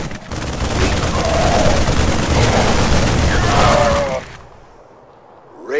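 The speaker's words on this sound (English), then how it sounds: "They're shooting civilians." Sustained gunfire and battle noise from StarCraft II, loud and dense for about four seconds with faint voices mixed in, then cutting off into a quieter lull.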